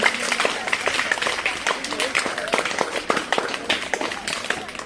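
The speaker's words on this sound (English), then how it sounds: "Give a big clap to welcome." A crowd at a school English language club event claps continuously with dense, scattered hand claps, lively and close, with voices mixed in.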